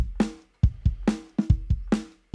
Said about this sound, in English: So without it, the kick and snare sound like this.